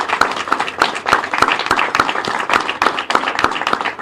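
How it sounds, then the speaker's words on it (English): A crowd at a political victory rally claps for honoured guests, with a dense spatter of hands and one close clapper beating out a steady, regular rhythm over the wash. "Yes, let's clap for them."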